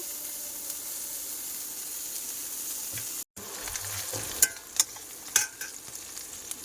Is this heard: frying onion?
yes